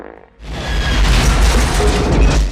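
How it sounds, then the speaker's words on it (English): A loud explosion detonates in the action movie On Deadly Ground, bursting in after a brief near-silence and roaring on as a sustained, rumbling blast with crackling debris to the end. "he presses a button to cause an explosion."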